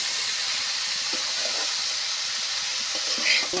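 Snake gourd tipped into a pan of frying potatoes, with a steady bright sizzle of hot oil throughout and a few soft knocks of stirring.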